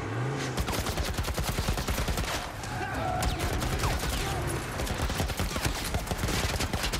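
Dense, rapid gunfire rattles almost without a break during a sewer level of the video game The Last of Us Part I. The loud volleys are layered with a faint voice talking.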